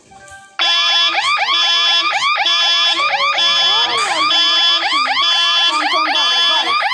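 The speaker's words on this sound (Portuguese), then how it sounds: "Vou mostrar pelo meu alarme." A car alarm blares loudly and continuously, cycling through repeated rising chirps and steady warbling siren tones, close by with no talk over it.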